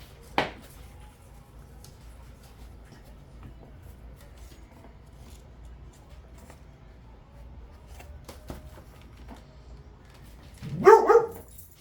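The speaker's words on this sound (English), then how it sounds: "My dog is hearing the TV and she wants to bark today" A pet dog barks indoors, one sharp bark near the start and then a louder burst of several barks at the end, with quiet household sounds in between.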